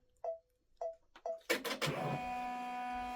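An embroidery machine sounds three short beeps, then starts a placement stitch while running unthreaded, with a few quick mechanical clicks settling into a steady whirring hum.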